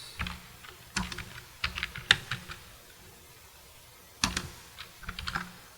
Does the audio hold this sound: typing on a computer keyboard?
yes